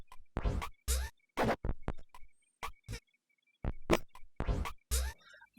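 Percussion loop made in FL Studio: sharp, dry percussive hits in a repeating broken pattern with gaps of silence, close and punchy, no voices.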